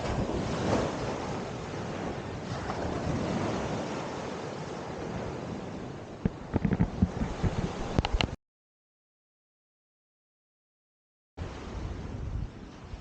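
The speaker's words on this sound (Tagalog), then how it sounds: "Yung alon lang talagang maririnig mo." Ocean waves wash onto a Bicol shore in a steady, soft roar with gusts of wind buffeting the microphone. The sound cuts to silence for about three seconds, then resumes.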